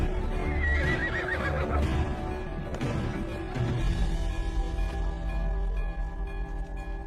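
A horse in a film scene lets out a loud, warbling whinny near the start, followed by hoof clops and shuffling movement under a dense, full soundtrack, with no talking.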